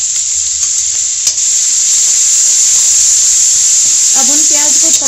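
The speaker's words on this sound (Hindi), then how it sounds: "और हल्का सा फ्राई होने पर इनके जो प्याज है वो डाल देंगे।" Onions going into hot oil tempered with ginger and green chili, giving a loud, steady sizzling hiss that runs continuously, with a few clinks of a utensil and faint voices near the end.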